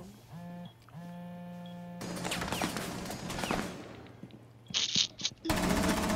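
Dense bursts of video game gunfire from a bomb-defusal shooter mission, loud and busy with rapid volleys and scattered impacts, broken by brief electronic tones and ending in a sustained noisy blast, with no talk over it.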